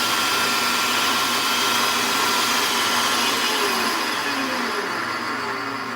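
A metal lathe runs flat out at over 2,000 RPM, giving a loud, steady broadband machine whine with a faint tonal hum that holds level for six seconds, with no voices.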